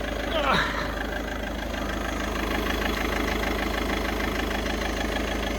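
An Audi A1 engine runs at a steady, even idle, fairly loud and close, after a brief swell near the start; the petrol or diesel type is not stated, and the engine is a 1 litre unit only if that refers to cleaner volume.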